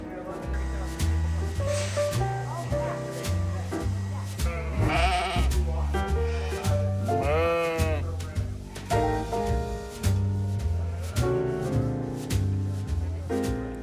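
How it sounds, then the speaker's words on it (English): Merino sheep bleating among the crowd at a large sheep and wool festival, several wavering bleats rising over steady background music and chatter, close and fairly loud. "So this is a merino sheep."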